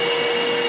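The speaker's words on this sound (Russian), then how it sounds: "Вот сейчас работает пылесос." An 1800-watt vacuum cleaner runs on a solar inverter, a loud, steady whirring drone with a constant high motor whine and no pauses.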